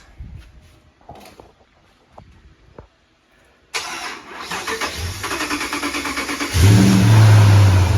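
After a few quiet clicks and knocks, a Jeep Grand Wagoneer with a swapped-in Hemi engine cranks and catches, then runs with a steady rumble that grows louder as it revs near the end.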